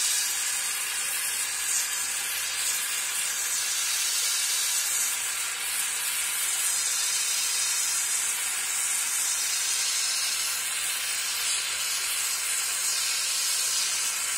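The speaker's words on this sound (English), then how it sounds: "Now we got to go back and reheat the metal." Steady, loud broadband hiss with a faint sizzle, like a torch flame reheating metal for vacuum casting, continuous and close for the whole stretch with no talking.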